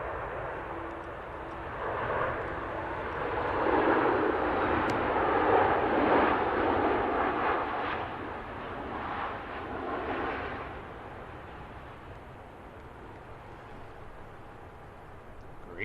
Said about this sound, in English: And here is that Ryanair from Barcelona.